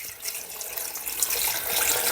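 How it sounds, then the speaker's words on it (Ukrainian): Water pours into a pot over pork ears, a continuous splashing, gurgling stream heard close and fairly loud with no talking. "Тепер ці вуха треба залити водою, щоб вода покрила повністю вуха"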